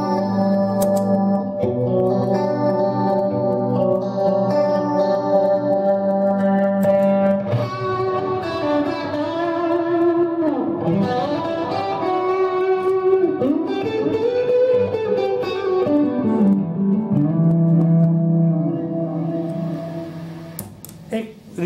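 An electric guitar plays through a pedalboard with compressor and chorus presets, switching between tones. Sustained, shimmering and heavily effected chords and lines run continuously, loud and close.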